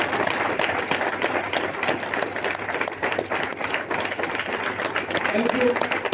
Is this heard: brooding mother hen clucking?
no